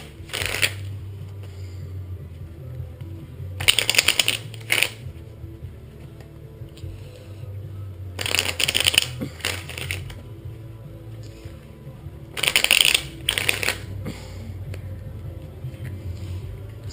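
Tarot cards are shuffled in three crisp riffling bursts, each a couple of seconds long, separated by quiet stretches with faint low background hum.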